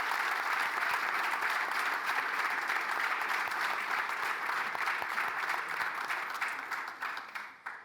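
Sustained applause from a large audience at a football club's club day celebration, steady and dense for most of the stretch before thinning and fading out at the end, with no talk over it.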